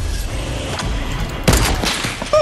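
Gunfire bursts in the Fortnite video game, a dense rapid fusillade with a louder cluster of shots near the end over steady game noise.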